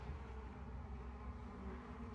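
A steady, faint drone of bees foraging outdoors on a hot day, a continuous low buzz with no pauses and no voices.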